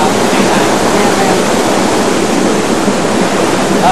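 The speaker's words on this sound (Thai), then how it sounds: "น้ำตกตัวนี้มันจังน้อย" A small waterfall fed by a cold natural stream at the foot of a hill gives a loud, steady, close rushing of water with no pauses.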